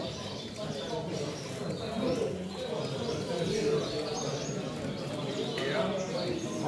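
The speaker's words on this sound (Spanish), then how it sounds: "en la que se pueden ver pájaros así." Pigeons or doves coo in a bird-filled area of Norwich, soft low cooing murmurs blended with faint chirps under a steady wash of background noise and nearby voices.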